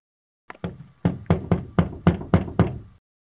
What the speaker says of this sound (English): Okay, Tamara, go ahead and knock on the door.